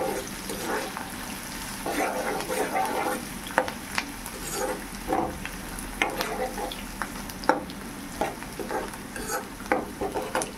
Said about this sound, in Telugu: వేసుకున్నాక కాసేపు కలుపుతూ ఉండాలి.